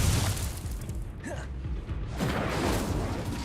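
A fire spell, Incendio, cast in Hogwarts Legacy during combat, heard as a short whooshing burst with a low boom partway through, set amid continuous game effects and background noise.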